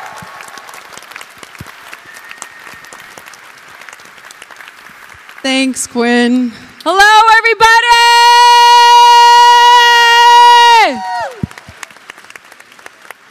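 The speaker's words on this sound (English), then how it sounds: "A big round of applause." Audience applause welcomes the moderator at an event on youth participation in the fight against HIV. Broad clapping runs under a short spoken greeting, followed by a loud, sustained tonal swell.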